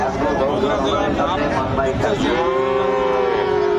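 Several Friesian cattle and calves moo loudly and close by, drawn-out lowing calls overlapping amid background chatter of a crowded cattle market.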